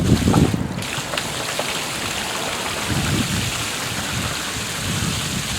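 Water from a running pool pump, with the solar line off, gushes and bubbles into a backyard pool, a loud, continuous splashing rush with irregular surges, close by and with no talk.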